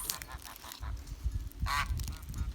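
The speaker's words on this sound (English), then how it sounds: "I have 6 geese in my gaggle. It's 2 ganders and 4 hens." Sebastopol geese honking nearby, a few nasal calls rising over a low rumble of background noise.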